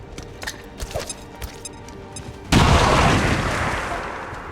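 A grenade detonates in XCOM 2 combat after a few faint clicks and taps, a sudden loud, broad blast that rumbles and slowly decays over a couple of seconds.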